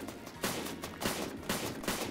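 Counter-Strike: Global Offensive match gunfire, four evenly spaced sharp shots about half a second apart over a dense, busy game background, fairly faint and without talk.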